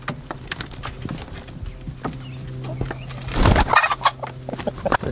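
Chickens cluck and call repeatedly nearby, with a louder burst of squawking and flapping in the middle and a steady low hum underneath.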